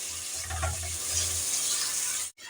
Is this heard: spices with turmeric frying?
yes